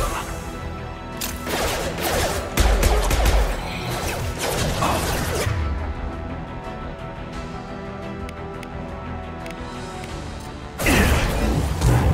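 Sniper gunfire in the video game Mass Effect 2: sharp blasts and crashes over a dense combat din, a quieter stretch with a low rumble, then another loud burst near the end.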